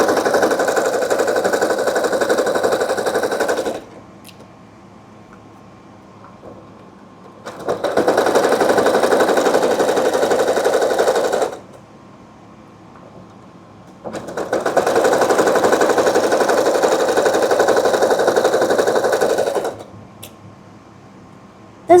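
Sewing machine stitching a skort seam, running in three steady sustained bursts of loud, even mechanical whirring separated by quiet pauses.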